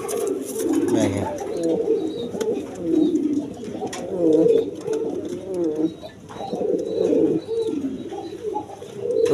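A pair of large, coloured Gola Giribaz pigeons coo repeatedly in low, throaty, rolling calls close by, while someone talks over them.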